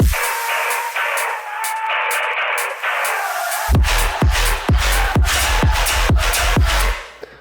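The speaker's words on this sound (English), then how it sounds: "And the fake out, we just have the hats." Tearout/brostep remix drum loop: a hissy texture with a tonal layer gives way to a steady run of sharp punchy hits with hi-hats, loud and rhythmic before cutting off at the end.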